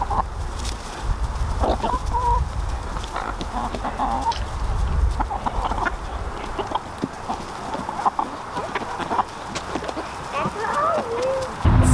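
Backyard chickens clucking and murmuring, a scattered chorus of clucks and short calls around a nearby flock, with a person talking over them at times.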